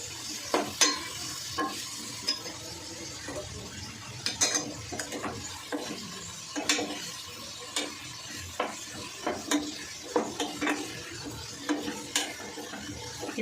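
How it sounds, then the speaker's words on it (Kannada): Potato masala frying in a pan is stirred with repeated scraping strokes of a spoon against metal, a steady sizzle beneath the rhythmic clinks, close and with no voices. "ಆಲೂಗಡ್ಡೆ ಮಸಾಲೆ ಎಲ್ಲ ಕ್ಲೀನಾಗಿ ಬ್ಲೆಂಡ್ ಆಗಬೇಕು. ಇಲ್ಲಿವರೆಗೂ ಮಿಕ್ಸ್ ಮಾಡ್ಕೊಳ್ತೀನಿ."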